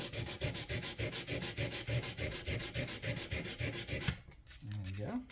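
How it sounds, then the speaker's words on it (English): Guitar frets are sanded with 220-grit sandpaper in quick, even back-and-forth rubbing strokes, close and rhythmic, stopping near the end before a short whine-like sound. "So I'm going to go to 220 because it'll take them off even quicker than the 320."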